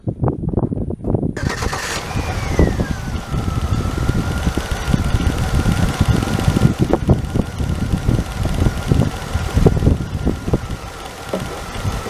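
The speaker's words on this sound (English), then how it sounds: "I don't hear the noise quite as bad, but still there's a little bit of lifter noise." A GM engine, freshly treated with an oil flush, cranks and catches, then settles into a loud, close idle with a light lifter tick running through the steady hum.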